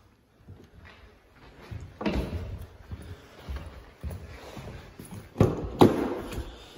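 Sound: BMW 730d rear centre armrest closing into bench seat

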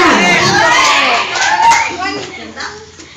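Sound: audience applause

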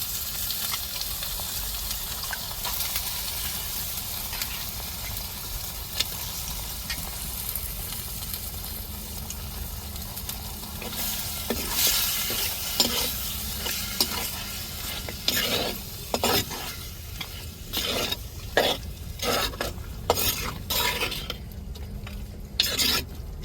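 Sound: mutton curry frying in the tempering

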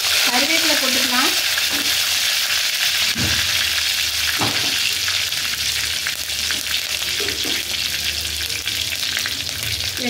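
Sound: mustard seeds spluttering in hot oil

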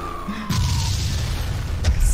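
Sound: cartoon explosion sound effect

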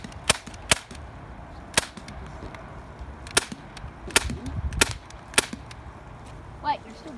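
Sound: BB gun being shot at a can

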